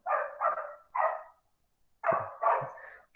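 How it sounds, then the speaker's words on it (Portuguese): A dog barks near a seminary: five sharp, fairly loud barks in two clusters of three and two, separated by a second of quiet, with no voices over them. "cachorro latindo"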